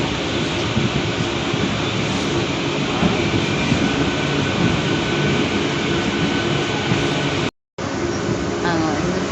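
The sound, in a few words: train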